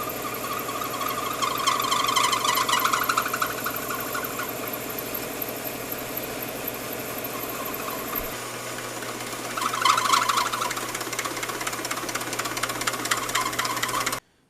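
A lathe turns a step on a tire balancer adapter, a steady motor hum with cutting chatter that rises around two points, continuous and fairly loud.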